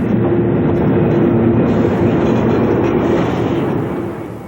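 A train rolls steadily along rails, a loud close rumble with clattering wheels and a faint high squeal running through it, easing slightly toward the end.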